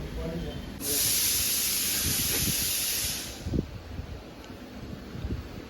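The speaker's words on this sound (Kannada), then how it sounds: "ವಿಸಿಲ್ ಕುಗ್ತಾ ಇದೆ ಕುಕ್ಕರ್" A loud, sharp steam hiss from a pressure cooker whistle rises for a few seconds and then fades, followed by faint clatter and rustling.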